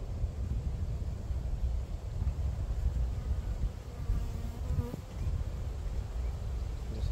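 Honey bees buzz densely around an open hive as frames with brood are handled, a close, continuous droning hum with individual bees passing near, steady throughout.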